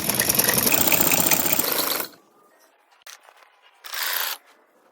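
A sewing machine stitches a kurti, a dense rapid mechanical clatter for about two seconds, then near quiet with small handling clicks and one short final burst of stitching.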